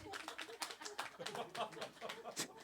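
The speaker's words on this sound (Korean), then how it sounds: "박수 한번 쳐주세요." A church congregation claps along in a broad, steady patter of many hands, moderately loud with crowd murmur mixed underneath.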